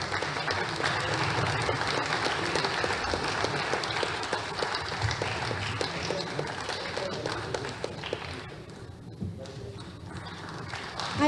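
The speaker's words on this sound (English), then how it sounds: "A huge round of applause for Mr." Applause for a speaker at a professional chartered accountants' ceremony, a dense steady patter of many hands filling the hall for about eleven seconds, with some voices mixed in and a slight thinning toward the end.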